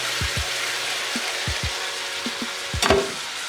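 Ginger garlic paste frying in a pan for pepper chicken, a soft continuous sizzle with a few low knocks of a spoon stirring against the pan, close and steady.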